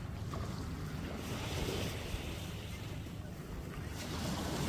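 Boat cruising level with the beach, with steady low engine rumble, wind buffeting the microphone and surf and water noise running continuously throughout.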